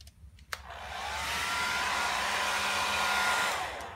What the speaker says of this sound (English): So here's my hairdryer I use.